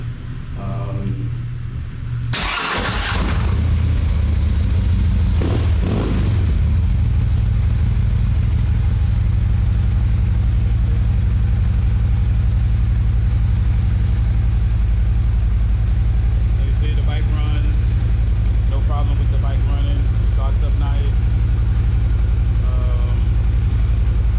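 A 2021 Harley-Davidson Street Glide Special engine rumbling steadily throughout a nighttime ride, loud and continuous, with a few brief louder bursts near the start and someone talking over it.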